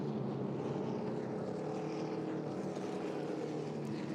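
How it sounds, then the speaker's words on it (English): A field of ARCA Menards Series West race cars filters down the front stretch at Phoenix Raceway, a steady continuous engine roar from several cars at moderate distance with no talk over it. "Field filtering down the front stretch here at Phoenix Raceway."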